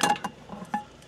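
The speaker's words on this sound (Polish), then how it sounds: "kupiłem w Decathlonie taki wielofunkcyjny garnek" A multifunction camping pot set from Decathlon, with lid, cups and small plates, is handled: a few bright metallic clinks and knocks, close and fairly quiet, with short gaps between them.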